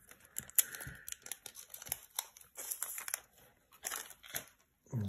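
White scissors snip open a Korean Eevee Heroes Pokémon card pack, with close, crisp cuts and crinkling foil in irregular bursts, quiet between snips and no talking.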